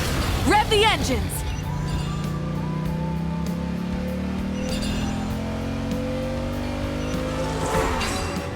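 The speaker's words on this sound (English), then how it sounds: "Light it up! Rev the engines!" Car engines drone and shift pitch during a video game race event, with a brief tire squeal near the start, the steady engine tone holding loud and close throughout.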